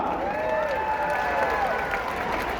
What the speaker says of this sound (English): nice round of applause for Tara!